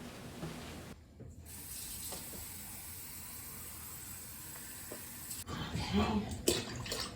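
Cans of water poured into a pot of spaghetti sauce made with tomato paste, giving a steady hissing splash that runs for several seconds, breaks briefly, then turns into louder sloshing pours near the end.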